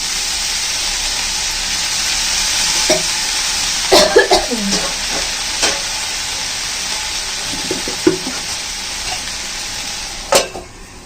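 Water goes into a hot pan of food cooking over a medium flame and hisses against the metal. Steady sizzling runs under sharper bursts of spatter and stirring clatter around the middle and near the end.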